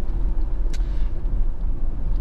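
Honda CR-V 2.2 i-CDTi diesel engine pulling on the road, a low steady rumble heard from inside the car, with a brief hiss midway.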